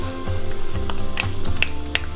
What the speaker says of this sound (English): I'm gonna go ahead and saute our onions